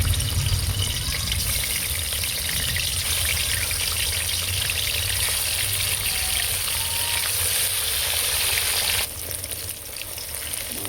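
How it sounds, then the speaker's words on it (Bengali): Rohu fish pieces fry in hot oil in a kadai, giving a loud, continuous crackling sizzle close by that eases off slightly near the end; no speech. "মাছগুলো আমি ডাল করে ভেজে নেবো"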